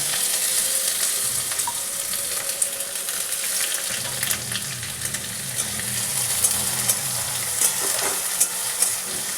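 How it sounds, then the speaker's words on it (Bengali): Onions frying with garlic in oil in a pan, a steady close crackling sizzle with occasional spatula scrapes and a low rumbling undertone, no talking. "পেঁয়াজটা একটু ভালো করে ভেজে নেব"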